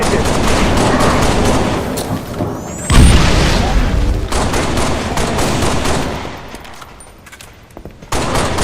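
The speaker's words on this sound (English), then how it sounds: "Hostile fire on my position!" Dense, loud Halo Reach combat gunfire, with rapid bursts and heavy booms layered into a continuous fusillade that briefly eases before picking up again.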